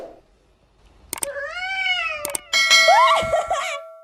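A cat gives two loud, close meows with rising and falling pitch, one long drawn-out call and then a second, more strained one, with sharp clicks and clanks between them.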